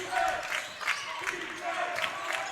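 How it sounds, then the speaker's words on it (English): Crowd noise fills a high school boys' varsity basketball gym late in a close game, a steady roar of cheering and shouts that swells in bursts around the court. "Crowd trying to cheer the Deacons to get another stop"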